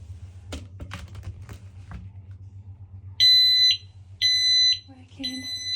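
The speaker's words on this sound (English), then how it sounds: "Going to test the remaining alarms. So we have an additional smoke alarm in the landing area." A smoke alarm is tested in the landing area of a house during a move-in inventory. After a few soft knocks over a low hum, it sounds three loud, piercing beeps in short, evenly spaced bursts.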